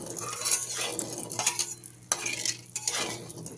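Salt is stirred into hot oil in a pan before frying katla fish, with a utensil scraping and clinking against the pan over a soft, steady sizzle, close and moderately loud.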